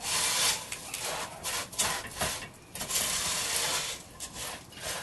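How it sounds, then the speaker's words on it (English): Rice Krispies cereal being stirred into a peppermint marshmallow candy mixture in an RV kitchen, giving a steady close crackling, scraping rub that swells and dips as the spoon works through the batch, with no talking. "so that I can mix it really well with the candy mixture that's on the bottom."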